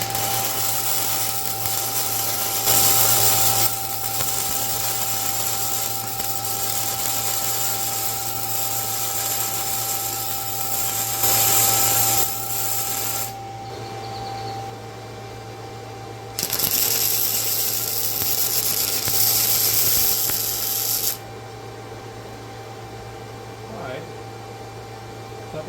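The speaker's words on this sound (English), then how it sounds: "I think that's a nice little weld there." An Andeli MIG 135 welder welding at 85 amps gives a steady crackling, sizzling buzz that runs in long stretches and cuts off abruptly between passes, over a constant low electrical hum.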